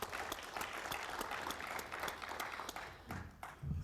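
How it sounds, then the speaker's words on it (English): Audience applause at a parliamentary colloquium for legal counsel, a steady wash of many hands clapping for several seconds, fairly near and fading slightly toward the end. "we may also give ourselves a round of applause"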